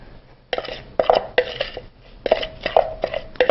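Herbs and spices being mixed in a bowl, a series of close clinks and scrapes of utensil against the bowl in short bursts, with quiet gaps between.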